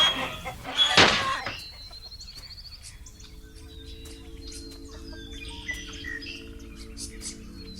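Chickens cluck and chirp around a farmyard at night, with a sharp loud burst early on, then quieter scattered calls and a steady cricket-like drone in the background.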